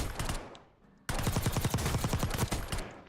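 Rapid automatic gunfire from a gun at the firing range in the Warzone video game, a short burst, a brief pause, then a longer loud sustained burst of tightly spaced shots.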